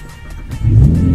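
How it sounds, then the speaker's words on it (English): A 600 hp Nissan GT-R with a straight-pipe exhaust starts up close by, a low rumble swelling into a loud, deep revving roar that holds steady. "Let's start it up actually."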